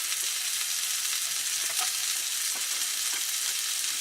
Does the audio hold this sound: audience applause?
no